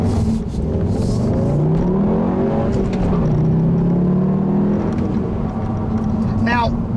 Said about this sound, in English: it actually almost sounds like the 5-cylinder engine when it's pulling